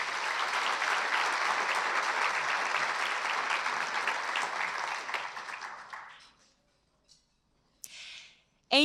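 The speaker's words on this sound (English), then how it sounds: "another round of applause for John Meffert." Audience applause at a hometown heroes award ceremony, a dense, sustained round of clapping that fades out after about six seconds, followed by near silence and a brief faint noise.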